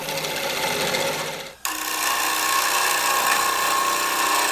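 Wood turning on a lathe, a 3/8 inch bowl gouge cutting a mesquite bowl: a continuous rough scraping whir that breaks off for a moment and then resumes, steady and close.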